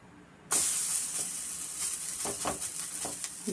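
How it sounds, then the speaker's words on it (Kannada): A dish tava-fried on a flat griddle in a spoonful of oil bursts into a sharp sizzle after a brief quiet start, then keeps a steady crackling hiss with light scraping at close range and no talk. "ನಾವು ತವಾ ಫ್ರೈ ಥರ 1 ಸ್ಪೂನ್ ಎಣ್ಣೆ ಹಾಕ್ಕೊಂಡು ನಾನು ತವಾ ಫ್ರೈ ಮಾಡ್ತಾಯಿದ್ದೀನಿ."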